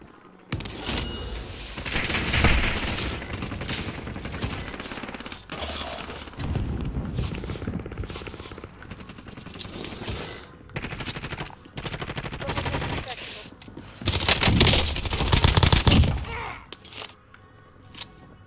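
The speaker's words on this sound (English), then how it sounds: "Where am I getting shot from?" Heavy bursts of automatic gunfire in a Call of Duty Warzone Rebirth Island match, coming in repeated loud volleys with quieter stretches of scattered shots and mechanical clatter between them.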